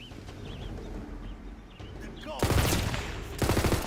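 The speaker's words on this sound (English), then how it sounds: "this SMGs are not doing it for me" SMG gunfire in the video game Tiny Tina's Wonderlands comes in two loud rapid bursts near the end, after a stretch of quieter game ambience.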